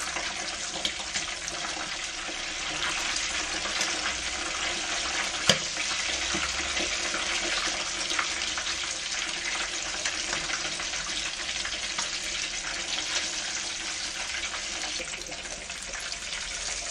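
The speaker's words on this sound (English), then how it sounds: "After that we fry directly." A large fish fries in hot oil with turmeric: a dense, steady, close sizzle that holds at an even level throughout, broken by a single faint click.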